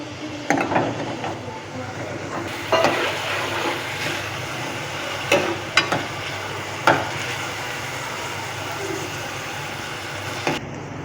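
Eggs cook in a pan for anda khagina, a steady low sizzle broken by occasional sharp scrapes and taps of a spatula, close and without talk.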